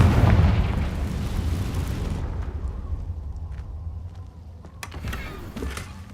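A Confringo spell explodes in Hogwarts Legacy, a loud, broad rumbling blast that fades out over a few seconds, followed by fainter crackles and magical effects.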